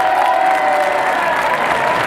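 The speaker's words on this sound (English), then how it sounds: "Tremendous cheer greeting the sponsors." A large crowd at the 1985 Queen's Club tennis final claps and cheers loudly in a dense, sustained roar of applause with no break across the stretch.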